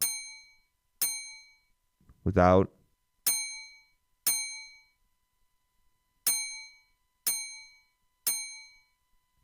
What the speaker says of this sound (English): Just a bell sample you can find pretty much everywhere.